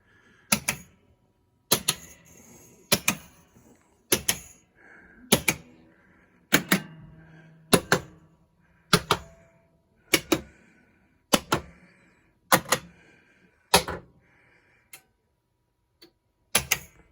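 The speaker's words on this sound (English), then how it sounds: "So that was solenoid test, and those are working fine too." Bally Secret Service pinball machine firing its solenoids one after another in a test, sharp loud clacking thumps at a steady interval of about one per second, close and alone.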